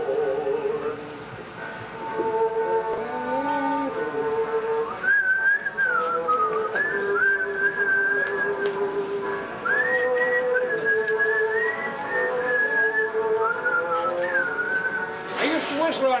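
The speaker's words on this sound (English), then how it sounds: "I used to whistle on some of my records too." Melodic human whistling played from an old phonograph record, with a sliding, warbling tune over a steady background band of instrumental accompaniment and surface noise, continuous and fairly loud throughout.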